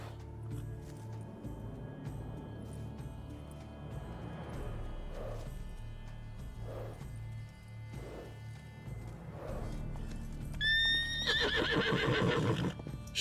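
A horse whinnies in The Witcher 3, a loud shrill neigh rising near the end after several seconds of soft hoof thuds and low game ambience.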